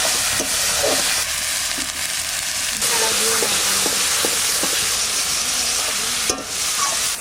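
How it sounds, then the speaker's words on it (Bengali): Bay leaves and cumin seeds fry in hot oil in a pan for a river fish curry, a steady loud sizzle and hiss running throughout with small spatters and crackles. "এই তেলের মধ্যেই দিচ্ছি তেজপাতা, জিরে"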